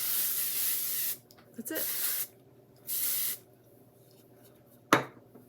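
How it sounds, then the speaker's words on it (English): Hairspray spraying onto hair in a makeup routine, heard as several loud bursts of steady hiss, each about a second long with short gaps between, followed by a brief voice and a sharp clack. "And as I'm spraying my hair"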